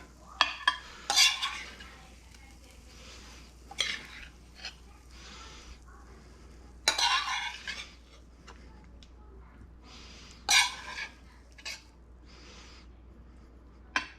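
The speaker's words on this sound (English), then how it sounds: "Now we're gonna plate it up all fancy like." Pan-seared chicken breasts and glazed spring vegetables are plated, with scattered clinks and scrapes of cutlery against dishes and pans, several sharp metallic hits between quiet gaps, fairly close.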